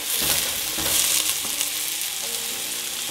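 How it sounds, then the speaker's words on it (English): Leeks and salt sizzle loudly in melted butter in a soup pot while being stirred, a steady close frying hiss with occasional scraping of the spoon and no voices. "Now in go my leeks and my salt. I'll give that a quick stir."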